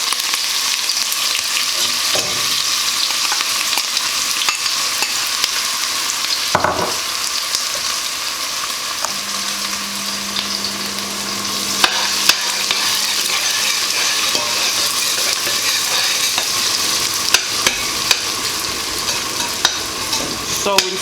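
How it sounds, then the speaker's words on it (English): Onions frying in hot oil for a bean dish, giving a steady broadband sizzle that runs unbroken and fairly loud, with occasional stirring knocks and a faint low hum partway through. "So we'll fry the onions until they're golden brown"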